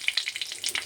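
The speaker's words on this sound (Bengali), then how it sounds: "আর এখানে কড়া গরম হয়ে গেছে, তেজপাতা দেবো, শুকনো লঙ্কা দেবো, জিরে দেবো বন্ধুরা" Bay leaf, dried chili and cumin crackle and sizzle sharply in hot oil in a kadai, a brief burst of close spitting pops.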